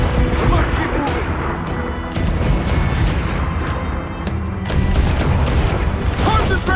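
Mortar and cannon fire booms repeatedly during a naval battle in Assassin's Creed 4 Black Flag, with heavy blasts and crashes landing under shouted orders and crew voices.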